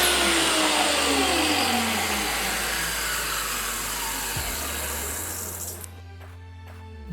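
A table saw motor, either a Bosch GTS10J or a DeWalt DWE7492, whines steadily at close range for several seconds, then cuts off and winds down abruptly near the end.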